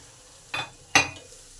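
Tomato stirred in a pan for pasta sauce gives two short scraping, clinking strokes against the pan, the second louder, over a faint low sizzle.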